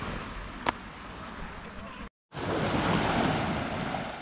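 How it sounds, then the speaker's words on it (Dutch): Calm sea washing onto the beach at Playa La Ermita near Santa Pola, Spain, a steady broadband surf with wind rumble on the microphone, a brief sharp tick early on and a short dropout midway before the waves resume. "Zo rustige zee."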